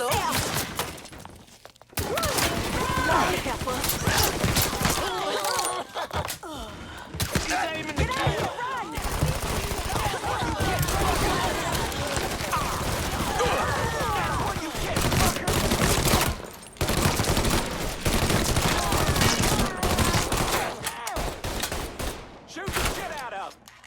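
Sustained gunfire in the video game Mafia III: rapid bursts and dense automatic fire with shattering impacts, loud and close, continuing almost without pause and broken by only a few brief gaps, with shouted game dialogue mixed in.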